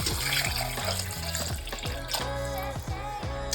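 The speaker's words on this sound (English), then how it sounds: "so now I'm going to add in that cold water." Cold water is poured into a cooking pot, a continuous close splashing and gurgling stream with repeated surges as the flow shifts, heard alone without talk.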